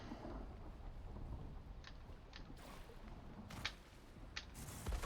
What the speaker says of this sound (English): Lightning struck this tree here twice.